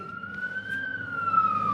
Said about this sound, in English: Y'all hear the sirens in the background?